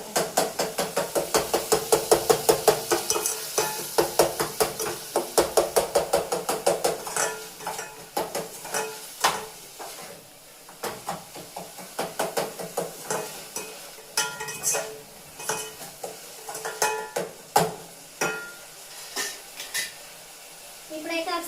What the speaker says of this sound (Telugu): గడ్డ పెట్టి కొడుతూ ఉన్నాను, టమాటాలు మెత్తపడుతూ ఉంటాయి.